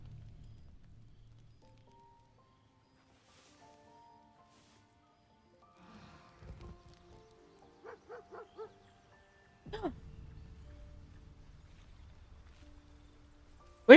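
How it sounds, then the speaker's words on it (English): In the video game Baldur's Gate III, a dog gives a short run of four faint, evenly spaced barks in an otherwise quiet scene, with soft thuds and rumbles around it. "Do you hear the barking?"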